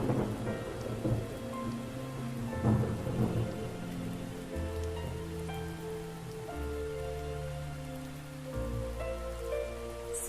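A heavy rainstorm pours down steadily while loud rolling thunder rumbles through, booming claps that swell and fade over constant rain hiss, with no voices.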